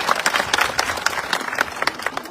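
Crowd at an outdoor farmers' protest rally in a village near Sanand, Ahmedabad, claps in a dense, lively burst of applause that holds steady throughout at close range with scattered clicks, and no clear speech over it.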